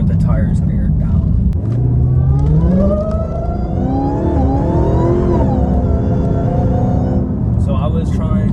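A Dodge Hellcat on stock tires aired down accelerates hard with traction control on and tires spinning: a loud, close engine roar climbing steadily in pitch over a heavy rumble, easing slightly near the end.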